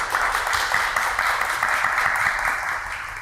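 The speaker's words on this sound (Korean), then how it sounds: "큰 박수로 환영해 주십시오." Conference audience applause welcoming a speaker at a future strategy conference in Korea, a broad, even wash of many hands clapping that holds steady and fades slightly at the end.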